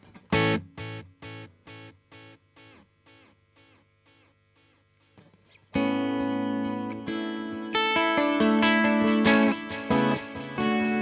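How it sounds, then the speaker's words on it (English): An electric guitar played through a Universal Audio UAFX delay pedal: a plucked note repeats in fading echoes, then a louder chord passage rings out with dense, overlapping repeats trailing each strum, with no voice. "you can hear the delay is there and it's going quite a lot"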